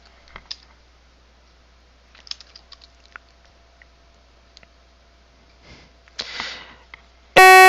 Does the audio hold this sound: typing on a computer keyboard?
yes